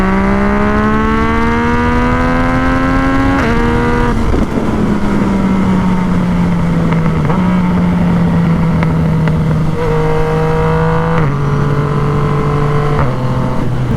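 A Yamaha FZ-09 motorcycle fitted with a Two Brothers exhaust revs loudly and alone, its engine note climbing through several gear pulls with sharp upshifts, each step dropping the pitch before it rises again.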